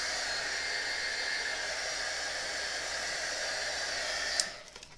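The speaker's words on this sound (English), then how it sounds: "My good old heat gun. I love this thing." An old heat gun blows hot air in a steady, even hiss close by that stops abruptly near the end with a small click, leaving quiet room tone.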